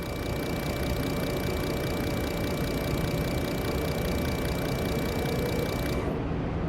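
A fuel injector test machine runs steadily at 600 RPM, giving a continuous mechanical clatter with a high steady whine, loud and close, until the whine cuts out near the end.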